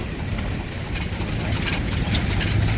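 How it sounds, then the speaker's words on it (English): An antique stationary engine, repaired after a cracked hopper and other damage, runs at a steady idle with a continuous low rumble and faint rhythmic ticking and clanks. "This engine has a lot of repair work on it. Clearly had a cracked hopper and some other damage, but it's running with those repairs."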